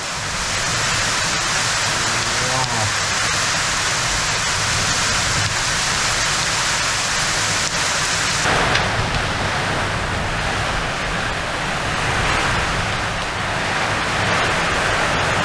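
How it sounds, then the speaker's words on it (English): Hail pours down outdoors in a loud, dense, unbroken hiss and patter for the whole stretch, with no voices. "I'm actually getting hailed on"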